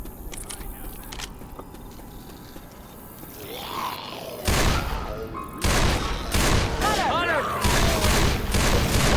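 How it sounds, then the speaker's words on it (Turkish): A bomb going off in Left 4 Dead 2 gameplay: after quieter rustling and a shout, heavy bursts of blast and gunfire noise erupt and keep pounding loudly, with players calling out over the din. "Bomba vardı patlattım."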